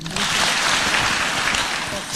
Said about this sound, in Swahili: Pigieni makofi.